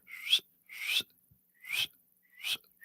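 Four sharp, high whistles repeat at a steady pace, each a short rising-and-falling tone with silence between them.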